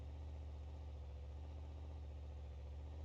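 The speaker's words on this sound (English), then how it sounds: "We're going to go to the regular Merlin engine here for testing" The Merlin truck engine in BeamNG.drive idles steadily, a low rumbling drone with an even throb, close and constant for the whole stretch with no voices over it.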